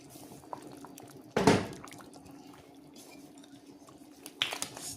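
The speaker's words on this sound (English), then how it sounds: "now I'm gonna put in the corn in my soup" Corn kernels tumble into a pot of simmering chicken foot and chicken back soup, a sharp loud splash-and-clatter burst near the start, with a second shorter splash near the end over a low background hum.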